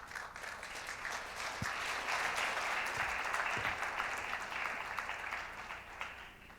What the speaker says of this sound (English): Please welcome Ambassador Bolton with a warm round of applause.